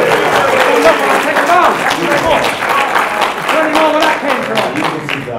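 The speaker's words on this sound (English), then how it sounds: "Good job, Tyson Fury. Give him applause, please." A press-conference audience applauds boxer Tyson Fury at the Klitschko vs Fury event, loud sustained clapping with crowd noise and voices talking over it the whole time.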